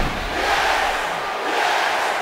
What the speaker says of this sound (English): This crowd on their feet.